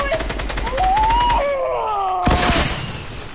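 Gunfire in a multiplayer video game: rapid rhythmic bursts of automatic shots, then a heavy blast, loud and close with game tones sweeping beneath.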